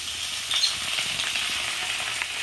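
Ground cumin, coriander and black pepper paste hits hot oil in a pan for a Bengali fish curry, giving a sharp burst of sizzle that settles into a steady, bright frying hiss.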